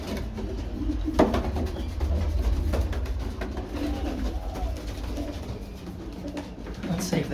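Pigeons cooing softly at close range as they are let out of their loft onto the landing board to fly, a steady murmur of low coos with occasional wing flutters.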